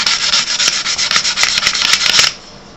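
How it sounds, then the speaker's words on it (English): Sandpaper rubs over wood in a run of quick back-and-forth strokes, loud and close, roughly a dozen rasping passes before it stops and falls quiet. "sandpaper, okay? You're putting scratches in the wood."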